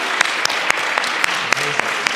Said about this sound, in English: Thank you for my first round of applause.